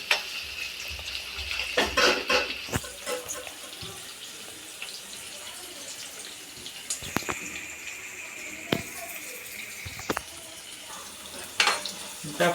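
Egg curry frying in a pan gives off a steady hiss and sizzle, broken by scattered sharp clicks and scrapes, with occasional louder stirring bursts.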